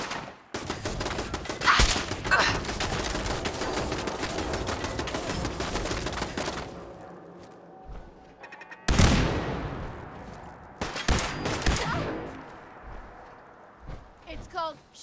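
Gunfire rings out in Fallout 4 with the Horizon mod in Desolation mode: dense, rapid bursts of shots rattle steadily for several seconds, then a pause, then fresh loud volleys and scattered single shots.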